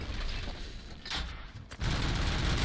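Gunfire in the shooter Robocop: Rogue City: a couple of sharp, close shots, then a loud, sustained burst of fire over mechanical clatter.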